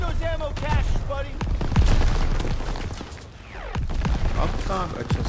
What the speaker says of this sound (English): Daniel, shoot the ammo caches.